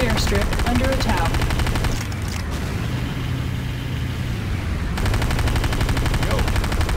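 Continuous rapid gunfire during an airstrip attack in a military video game, a dense loud rattle of shots that thins briefly in the middle before resuming, under a vehicle rumble with voices.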